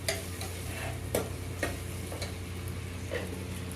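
Chopped ginger is stirred in a hot pan for paneer pulao, with a soft continuous frying hiss and a few distinct taps and scrapes from the spatula, close and fairly quiet.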